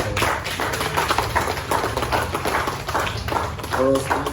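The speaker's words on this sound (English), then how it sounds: "So I want to just give a big round of applause to Derek James" A boxing post-fight press conference crowd gives sustained, dense clapping that stays fairly loud throughout, with a brief voice near the end.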